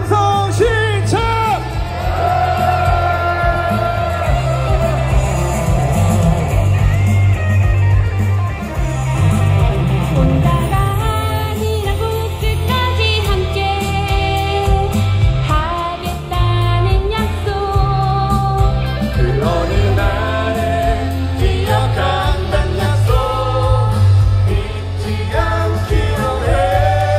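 Crowd at a Korean protest rally yelling and cheering in unison, sustained loud massed voices over amplified music, with repeated swells of shouting across the whole stretch.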